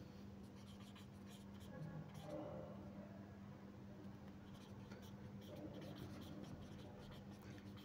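A pen scratches across paper during a Bengali-language SSC chemistry lecture on the periodic table: soft, steady scribbling strokes, fairly quiet, under a speaking voice in the room.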